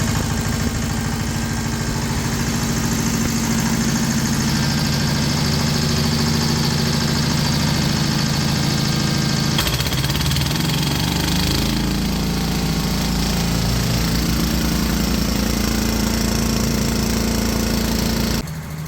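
A repaired walk-behind road roller's engine runs steadily and loudly at close range, a continuous mechanical drone with a rough, shifting tone partway through, and no talk over it.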